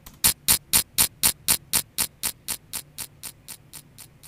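A short clicking sound treated with an Audacity echo effect repeats about four times a second, each copy fading in loudness until the repeats grow faint.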